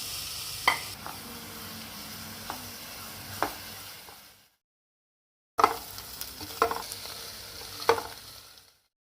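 Finely chopped onions sizzle steadily in hot oil in a pan, with occasional stirring clicks and scrapes, broken by a short silence before the frying resumes.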